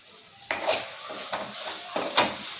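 A spoon clinks and scrapes against a pot as spices such as red chilli powder, garam masala and coriander powder are stirred into ambadi sukat bhat. There are several short, close scraping strokes in a quiet kitchen.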